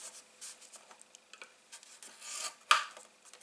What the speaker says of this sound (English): I'm just going to score these two pieces of card.